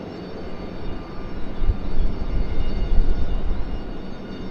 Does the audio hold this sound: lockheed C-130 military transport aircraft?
yes